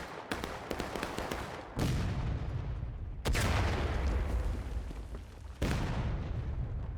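Heavy artillery cannon blasts in the Civil War battle game War of Rights, three loud booming shots spaced a second or two apart, each with a sharp crack followed by a long rumbling low-frequency tail.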